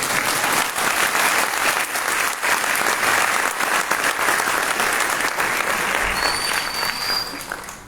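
An audience at a book launch applauds steadily and fairly loudly, with dense, even clapping that lasts throughout.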